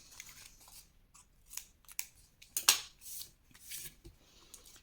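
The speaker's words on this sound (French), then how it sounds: "Alors, on va couper ici" Scissors cutting paper on a diagonal for a Harry Potter pop-up scrapbook album page, heard as a series of crisp, close snips spaced irregularly in an otherwise quiet room.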